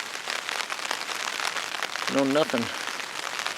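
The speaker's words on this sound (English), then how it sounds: "Rain and wind is the story" Steady rain hisses outdoors in the Alaska wilderness during a grizzly bear hunting trip, a constant wash of drops throughout, with someone briefly speaking near the end.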